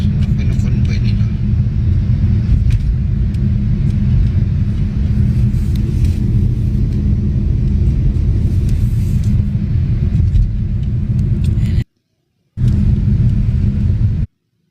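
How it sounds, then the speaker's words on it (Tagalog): Several police mobile vehicles drive past in a convoy, giving a steady, loud road rumble that continues for more than ten seconds before cutting out briefly near the end. "Ang daming sasakyan ng mga mobile, police mobile."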